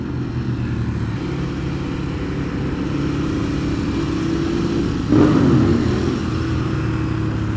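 A 2015 Ducati Monster 821 motorcycle engine runs steadily nearby, with its exhaust note rising into a short, louder rev near the end.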